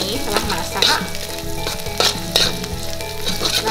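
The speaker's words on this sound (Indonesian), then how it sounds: "setelah telur kita goreng seperti ini, setelah masak" Eggs frying in a hot pan while cooking mie Jawa goreng, a loud continuous sizzle with crackling bursts and occasional stirring clatter, no talk.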